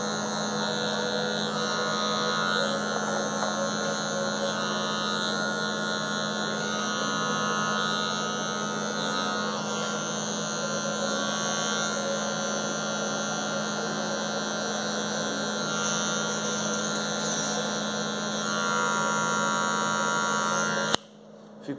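An electric hair clipper runs continuously close by during a fade haircut, giving a steady buzzing hum with slight shifts as it moves through the hair, then stops abruptly at the very end.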